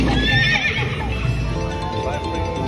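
A horse neighs and whinnies over a busy electronic slot machine jingle during free spins, loud and close, with bright chiming tones layered throughout.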